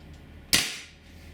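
One sharp, fairly loud crack as a Scarab Arms TGR2 MK2 airsoft rifle with a red 300 FPS spring fires a normal-weight BB, followed by a quick decaying tail, with no other sound around it.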